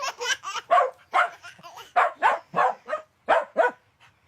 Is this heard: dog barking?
yes